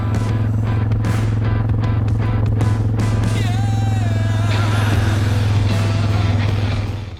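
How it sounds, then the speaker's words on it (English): A 4-wheeler ATV engine runs steadily nearby while it pulls a waterline down to a barn, a loud continuous drone overlaid with scattered clanks and squeaks. "use the 4-wheeler to run the line all the way down to the barn"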